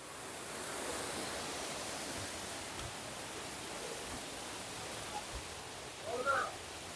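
A waterfall at Kollankod in Palakkad, Kerala gives off a steady, distant rush of falling water, soft and even throughout, with a brief rustle near the end.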